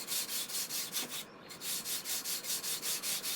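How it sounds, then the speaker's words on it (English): Balsa wood of a beginner's model glider being rubbed with lightweight sandpaper, a close, steady series of soft rasping strokes with a brief pause near the middle. "I'm using a very lightweight sandpaper, because I just want to take my time with this."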